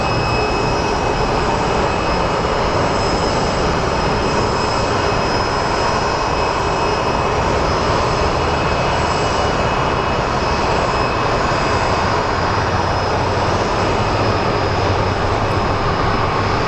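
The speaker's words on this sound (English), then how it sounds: "So we have another Airbus coming in from Fresno." An Airbus airliner arriving from Fresno at Phoenix Sky Harbor Airport gives a loud, continuous jet engine roar with a steady whine that holds throughout, close and unbroken.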